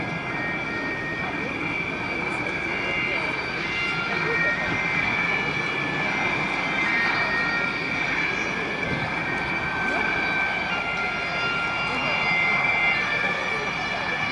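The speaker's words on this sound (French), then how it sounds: "Le Vampire, c'est l'avion qui va faire sa présentation en priorité." A de Havilland Vampire jet makes its flying display at an air show, a steady, loud jet roar sustained throughout, with a faint public-address voice in the background.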